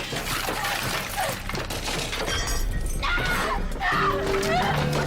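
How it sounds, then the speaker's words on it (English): Perfume bottles, makeup and trinkets crash to the floor in a continuous noisy smash of breaking glass and clattering objects, loud and close, with a high whinny-like cry partway through. "sending delicate perfume bottles, makeup, and trinkets crashing to the floor"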